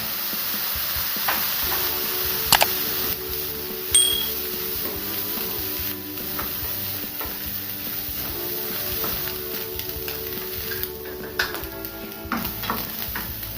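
Egg fried rice with soy sauce sizzles steadily in a pan while a spatula stirs it, with scattered clinks and scrapes of metal on metal over the continuous hiss of frying, close by.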